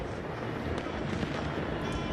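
New Year's Eve fireworks in Berlin, Germany, heard as a continuous dense wash of crackling bursts and distant booms, steady and fairly loud throughout with no clear gaps between blasts.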